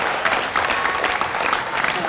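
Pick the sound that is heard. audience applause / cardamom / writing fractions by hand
audience applause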